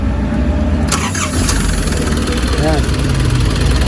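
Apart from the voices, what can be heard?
Nissan Urvan engine starting and humming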